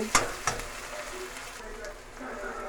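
Onions fry in a pan with a soft, steady sizzle and crackle, opened by a couple of sharp stirring clinks. Faint and close, with no speech over it.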